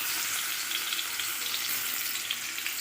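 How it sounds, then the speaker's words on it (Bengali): Vegetables frying lightly in hot oil in a wok for an Ilish fish oil ghonto, a steady dense sizzle and crackle with no break, close and fairly loud, no voices. "তো দেখো সবজিটা এরকম হালকা করে ভেজে নিয়েছি"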